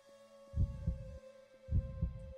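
Heartbeat in the Roblox horror game ELMIRA, two slow double thumps, lub-dub, deep and close over a steady electronic hum, with no talk.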